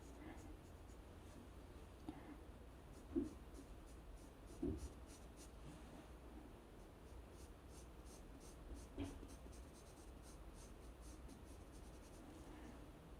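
Graphite pencil strokes on paper while a tulip is drawn in fine detail, a soft continuous scratchy rasp with a few louder taps and scrapes, close and quiet with no talking.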